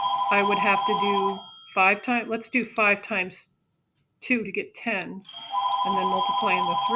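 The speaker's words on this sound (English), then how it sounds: "I apologize that my phone is ringing." A phone rings in repeated electronic bursts at the start and again at the end, with someone talking over it while he explains a math problem.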